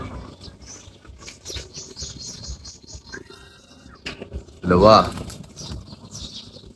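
Pigeons flutter down from a perch, a short burst of flapping wings close by, with people talking before and around it.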